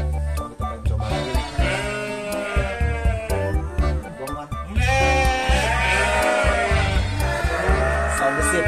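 Merino sheep bleating on a breeding farm: several loud, close overlapping bleats, some long and wavering, repeat throughout over a background of farm noise.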